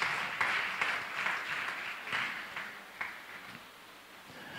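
A Sunday church congregation claps for Jesus in worship, scattered hand claps forming a soft, fairly distant patter that slowly fades, with no talking over it.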